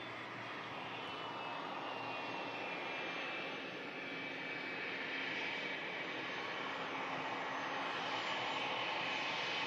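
A business jet lands on runway 23L at Manchester Airport and turns off onto a rapid-exit taxiway, its engines a steady, loud, broadband roar that holds unbroken for nearly ten seconds with no voices.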